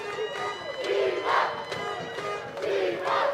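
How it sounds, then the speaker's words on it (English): A large football crowd at a Philippines Football League match in Cebu cheers and chants a player's name in loud, rhythmic waves, sustained and surging throughout. "To the delight of the Cebu crowd chanting his name"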